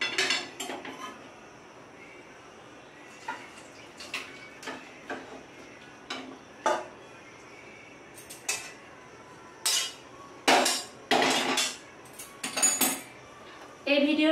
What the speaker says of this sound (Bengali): এবার আমি একটা কড়া থেকে নামিয়ে নেব।